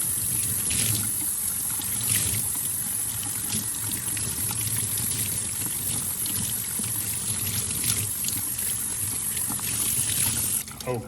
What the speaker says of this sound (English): We're going to give it a 30-second rinse on all of these.